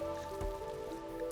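Steady rain falls outside on a chill, slow day in a RimWorld game, a soft continuous patter with faint drips, quiet and unbroken, alone with no talk.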